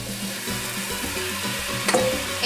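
Hominy sautés in a pan with coriander and cumin as the spices toast, giving a dense, steady sizzle with a few soft stirring scrapes and a brief knock near the end, close and without speech.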